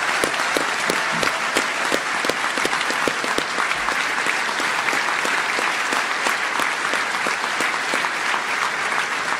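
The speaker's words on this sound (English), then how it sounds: "So a round of applause for all the veterans," Sustained applause from a dinner audience honoring veterans at an annual banquet, a dense steady wash of many hands clapping at even loudness for about nine seconds, with no talk over it.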